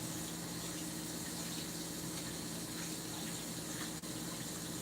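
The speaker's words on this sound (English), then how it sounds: "Let me wash the hands." Tap water runs steadily while hands are washed at a sink during fish processing, a continuous close gushing hiss for the whole stretch with one brief interruption near the end and no talking.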